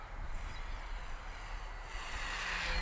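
A radio-controlled CargoTrans C-160 scale model airplane flies overhead, its small electric motors making a faint, steady whine and hum that swells slightly toward the end, with no talk.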